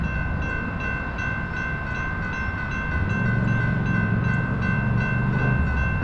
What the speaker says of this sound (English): you might look out and see a train